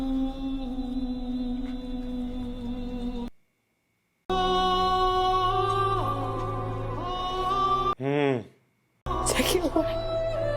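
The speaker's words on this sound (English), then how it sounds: "It's the song of captivity." Eerie, mournful Ood song of captivity from the Doctor Who episode Planet of the Ood: a sustained harmonic choral tone, broken by silent gaps and a brief warbling swell, loud and close with no talking.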